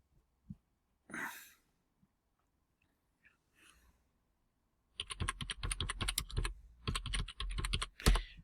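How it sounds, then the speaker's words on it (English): Typing a search on a computer keyboard begins after a few faint breaths and rustles, then quick bursts of crisp, close key clicks in rapid rhythm with a short pause between runs. "I just type Secret Escapes"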